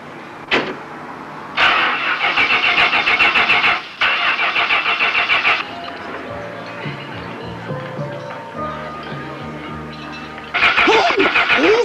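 A car engine in a garage cranks and catches, then revs hard in several loud bursts with rough idling in between, sounding close and dominating the scene.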